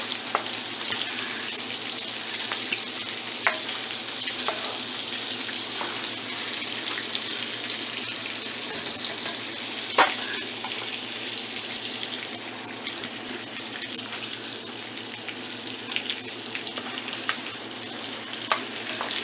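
Shrimp fry steadily in a pan for an Alfredo sauce dish, a dense continuous sizzle up close with occasional small pops and stirring scrapes, no voices.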